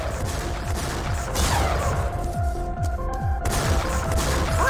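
Rocket explosions in the video game Team Fortress 2, a dense barrage of loud booms and crashes following one another rapidly over constant game noise.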